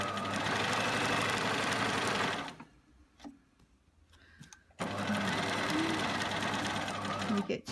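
Sewing machine stitching a curved seam on boxer shorts, loud rapid whirring for over two seconds, a pause with quiet fabric handling, then another sustained burst of stitching.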